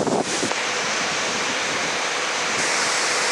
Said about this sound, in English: pipeline which is having large amount of water discharging into the condenser